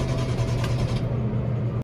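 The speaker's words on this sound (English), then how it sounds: "the only thing it really, really, really does is just keep cranking like the M8" A BMW M6 engine cranks over without catching while two jump boxes are hooked up, giving a steady, close, droning whir that runs unbroken for nearly two seconds before cutting off abruptly.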